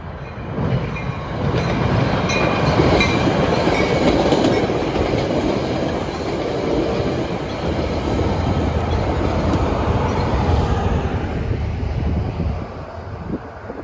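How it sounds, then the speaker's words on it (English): Passenger train 1714 from Suffern to Hoboken rolls past WC Tower, a loud continuous rumble of wheels and clattering railcars with wind buffeting the microphone, steady for the whole pass. "Approaching WC Tower, which will be passing by, is train 1714 en route from Suffern to Hoboken."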